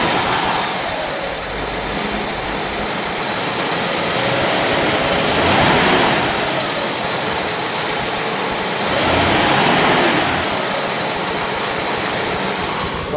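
A 1960 Pontiac Bonneville convertible with dual exhaust idles steadily and smoothly at close range, a continuous broadband engine rumble that swells gently twice without any talk.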